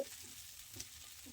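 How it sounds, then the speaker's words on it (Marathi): A quiet, steady sizzle of bottle gourd and poha thalipeeth flatbread frying in a little oil on a hot griddle, faint and continuous with no voices. "यावर आपल्याला थोडंसं तेल घालून इथे आता थालीपीठ भाजून घ्यायचंय"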